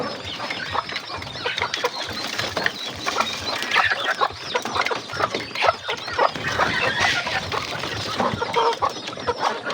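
Chickens cluck and crow in a coop, a dense, continuous chorus of overlapping hen calls at close range with no talk over it.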